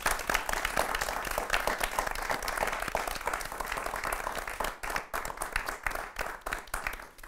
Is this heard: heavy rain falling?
no